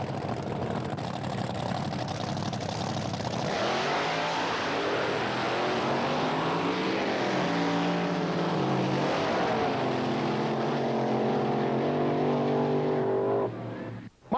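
Drag racing cars in 1987, one a supercharged, fuel-injected big block Chevy doorslammer with a giant rear wing, roar loudly down the strip with rising revs and engine harmonics for about thirteen seconds before cutting off abruptly.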